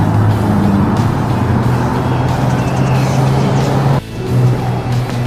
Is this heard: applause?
no